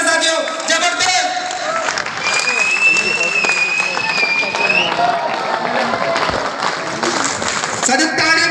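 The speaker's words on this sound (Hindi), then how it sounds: "लोकेश यादव की जबरदस्त तालियों के साथ स्वागत है साथियों" Dense applause fills an auditorium at a direct selling meeting in Jaipur as a speaker is welcomed, steady loud clapping from a large crowd with music playing and a voice talking over it.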